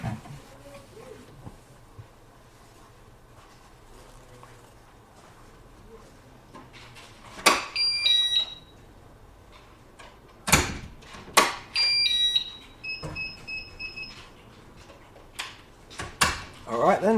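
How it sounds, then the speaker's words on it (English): A Hikvision DVR/NVR sounds short electronic beeps when motion detection triggers, heard as a few brief tonal chirps amid clatter and room noise after a quiet stretch. "if you heard that beep, that means the motion was detected and it sent a snapshot to our Dropbox account"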